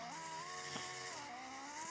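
A Ferrari race car engine in a video game race holds a steady, sustained drone whose pitch rises and dips slightly as the car accelerates, close and continuous with no talk.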